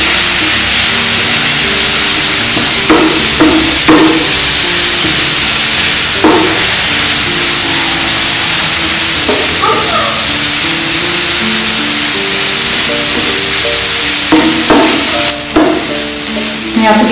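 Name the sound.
prawns frying in a pan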